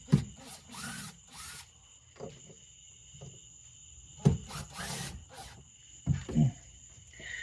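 Screws are worked out of the brackets on a fuel sending unit, with a few close taps, clicks and short bursts of scraping tool noise over a faint, steady background hum.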